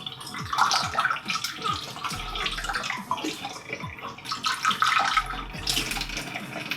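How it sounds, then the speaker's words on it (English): Part of a STARESSO portable espresso maker being rinsed under running water: an uneven splashing and trickling, with small knocks and gurgles, close and fairly quiet. "Give this a little bit of a rinse."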